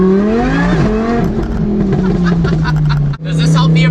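An 800 hp Lamborghini accelerates hard with a loud, close engine roar that rises and then settles into a steady drone. A brief drop in sound comes near the end before the roar returns.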